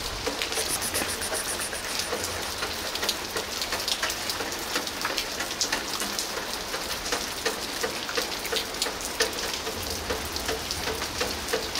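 Steady, dense rain patters continuously on a surface, a loud unbroken hiss of drops with no voices.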